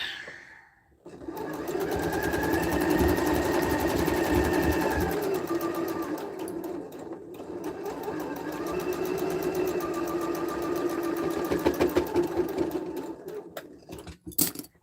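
A sewing machine stitches quilt flower blocks one after another in a chain, running steadily at close range with two long bursts separated by a brief pause, and stops near the end.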